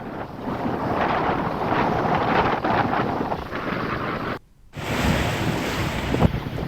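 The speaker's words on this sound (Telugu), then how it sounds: "నీటి విడుదల కొనసాగుతోంది" Water released from the Nagarjuna Sagar dam in flood season roars continuously as a steady rushing wash, loud and close, broken by one brief gap near the end.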